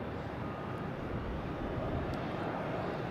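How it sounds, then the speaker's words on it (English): Jet airplanes at Logan airport in Boston at dusk, a steady broad engine roar holding constant as aircraft idle and taxi, with no voices. "There's a lot of planes getting ready to go."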